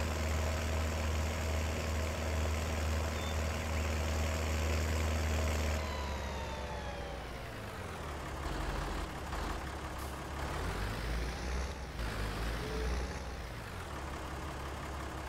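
A small tractor engine in the video game Farming Simulator 19 drones steadily with a low rumble, then its pitch dips and shifts as the engine works harder under load, continuous and without talking.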